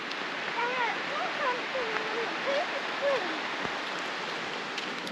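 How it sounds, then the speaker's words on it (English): Thompson River creek at Cooper's Creek Campground flowing steadily as a continuous broadband rush of water, moderately close, with a voice-like warbling tone threading through it. "So just wandering down to the creek now. I think this is Thompson River"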